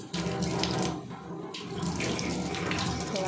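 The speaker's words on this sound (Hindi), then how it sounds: "धो लिया हाथ।" Water runs steadily from a tap as hands are washed, a continuous close splashing stream with small shifts as the hands move under it.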